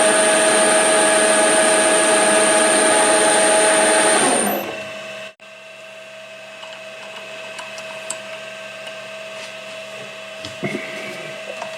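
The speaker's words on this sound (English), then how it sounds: "we drill a 4 millimeter hole at the end and thread it to" A loud, steady mechanical whine of a drill boring a 4 mm hole in metal runs for several seconds, then cuts out, leaving quiet workshop background with faint clicks.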